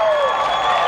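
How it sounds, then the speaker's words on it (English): High school football crowd at a 1995 Huntington Beach game roaring after a defensive stand, a brief loud swell of cheering and clapping with tonal whistles or horns riding over it. "That sure ignites the crowd."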